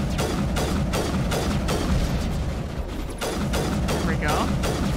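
Automatic weapon fire in the Mass Effect video game, with rapid, evenly spaced sharp bursts repeating through the whole stretch over a dense, loud background mix.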